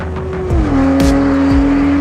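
A Porsche 991.2 GT3 RS with its 4-litre flat six screams at high revs near 9,000 RPM during fast laps, a loud sustained wail that dips slightly in pitch at an upshift, heard from inside the car.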